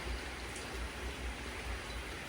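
Steady rain pours down in a dense, even hiss of drops striking surfaces, with a soft low rumble underneath and no voices.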